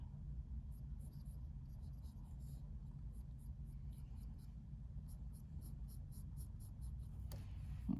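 Pen or pencil scratching steadily while drawing contour line shapes in the squares of a grid, a continuous soft close-up scraping over a low room rumble, with a brief louder touch near the end.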